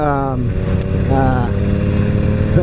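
A 2016 Harley-Davidson Roadster rumbles steadily at highway speed, its engine drone loud and close beneath heavy wind noise, with a rider's voice talking over it.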